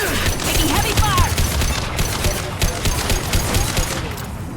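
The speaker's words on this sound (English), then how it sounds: "Taking heavy fire!" Heavy gunfire from a firefight in Mass Effect 2: Legendary Edition, a dense, continuous fusillade of rapid shots and impacts running throughout, close and loud, with no talk over it.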